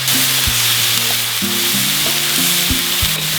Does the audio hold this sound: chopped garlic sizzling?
yes